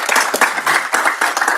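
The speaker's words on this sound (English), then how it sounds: "Can we give him a round of applause?" Audience applause at a school board meeting, a dense burst of hand clapping from a crowd of people in a room, steady and fairly loud through the short stretch.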